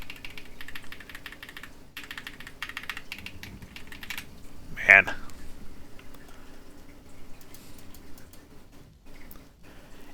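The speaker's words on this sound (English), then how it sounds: "these cream switches, oh man, nice and clicky" Mechanical keyboard with clicky cream switches being typed on, a steady stream of light, fast keystrokes in the background, with someone briefly speaking over it.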